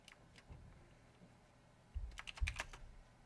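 Someone types a message on a computer keyboard, a sparse, faint run of key clicks that turns into a louder, quicker burst of keystrokes near the end, with no talking.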